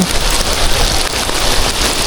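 Heavy rain pours steadily and loudly, a dense unbroken hiss of drops drumming on surfaces with no pauses and no voices.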